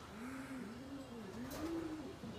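Racing pigeons coo in soft, repeated rolling calls, several overlapping phrases in quick succession, close by and steady, with no voices.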